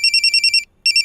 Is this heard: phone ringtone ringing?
yes